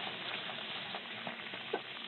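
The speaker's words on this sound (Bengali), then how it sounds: "দেখো আমার লুচি ভাজাটা কেমন হচ্ছে বন্ধুরা" Luchi, a puffed flatbread, deep-fries in hot oil with a faint, steady sizzle and a few small pops, heard alone without talk.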